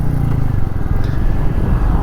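A Royal Enfield Meteor 350 cruiser motorcycle rumbles steadily under a rider, its low engine drone continuous and loud throughout, with wind noise over the top and the rider's voice mixed in.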